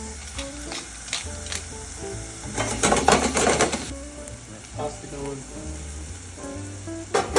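Ramps sweating in olive oil in a pan give a steady sizzle and fry, with stirring clatter and a louder burst near the middle and faint voices in the background.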